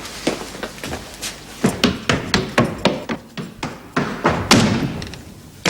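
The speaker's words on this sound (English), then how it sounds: "You can just hear them. American guns." Distant American guns fire in a ragged series of about a dozen dull booming thuds, spaced irregularly and heard at a distance without talk.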